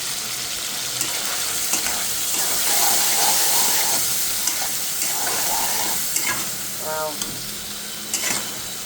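Food being stirred and fried with Maggi masala in a pan, a steady close sizzle under scraping and stirring strokes, with a brief bubbling burst near the end.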